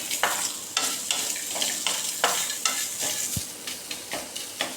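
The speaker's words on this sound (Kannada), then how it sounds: "ಅದಕ್ಕೆ ಒಂದು ಅರ್ಧ ಈರುಳ್ಳಿ ಮತ್ತು ಒಂದು 10 ಬೆಳ್ಳುಳ್ಳಿ ಸಣ್ಣ ಮಾಡಿ ಫ್ರೈ ಮಾಡುವ" Chopped onion and garlic fry in a pan, with a close sizzle broken by regular scraping stirs about every half second and a single dull knock near the end.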